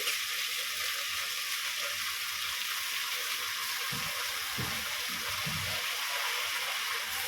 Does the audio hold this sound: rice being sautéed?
yes